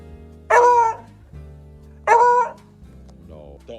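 A dog gives two loud, sharp barks about a second and a half apart, close by, with a voice murmuring low in between.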